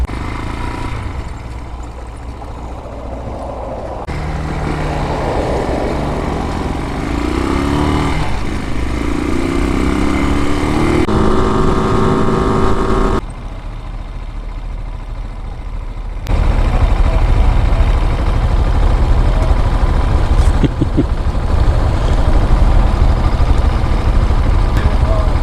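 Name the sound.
Honda Monkey and Brozz Recon motorcycles riding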